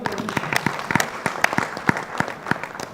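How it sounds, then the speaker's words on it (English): Applause from the audience at a medical cardiology conference hall after a live demonstration, steady overlapping clapping from many hands, moderately loud and sustained. "Big hand to both of them."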